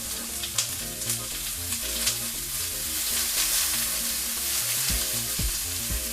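Food caramelizing in a hot pan, one side browning before going into the oven, gives a steady, close sizzle and crackle throughout, with occasional pops and scraping, no talking.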